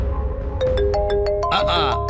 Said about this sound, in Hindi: देखा, फोन भी बजने लगा।